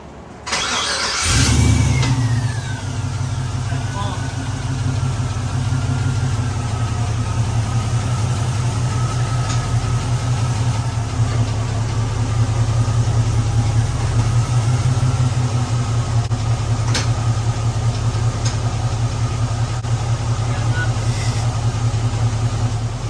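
A 1969 Camaro engine catches at the start, then holds a loud, steady idle with mild swells of revving throughout, close by and running continuously with no talk over it.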